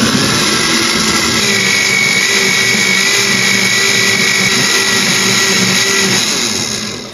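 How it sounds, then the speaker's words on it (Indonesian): An electric kitchen blender runs steadily at high speed, puréeing pudding ingredients with milk until smooth, a loud, constant whirring motor drone that holds for several seconds before starting to wind down at the end. "Selanjutnya ini akan aku blender sampai halus."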